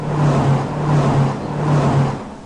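Cars roll past in a steady, loud stream, a continuous engine rumble and road noise that swells and eases in gentle waves with no voices.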